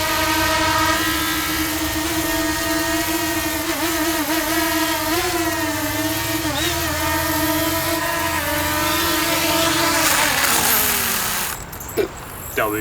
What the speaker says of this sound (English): That was my first time flying a drone.